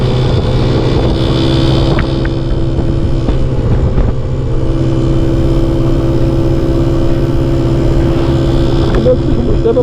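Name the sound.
motorcycle engine running during ride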